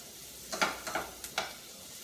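Jalapeños and Brussels sprouts sizzle quietly in a pan while being stirred, with a few brief scraping bursts over a steady low frying hiss.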